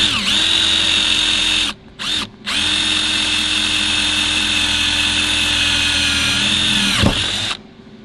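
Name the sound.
drilling a hole with a number 7 tap drill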